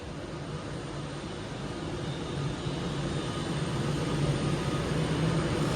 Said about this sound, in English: as this train now arrives in to take me to Crewe